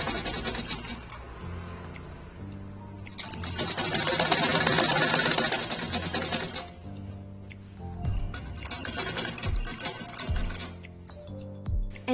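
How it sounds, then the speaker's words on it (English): A sewing machine runs in loud bursts of rapid mechanical stitching, stopping and starting again, with quieter handling noises and clicks in the pauses between runs. "By pressing this tool, the sewing machine will start functioning."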